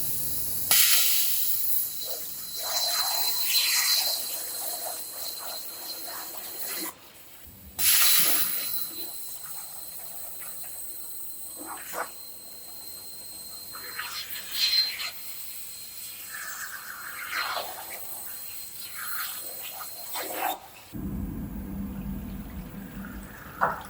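A CNC plasma cutter slicing steel plate in a fabrication shop gives a sustained loud hiss, broken by brief pauses and restarts, with a harsher burst near the end.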